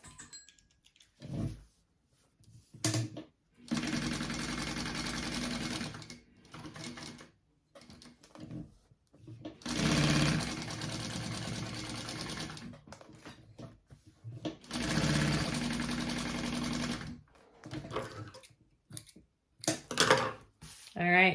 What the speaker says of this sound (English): go ahead and sew that together. And you'll top stitch this.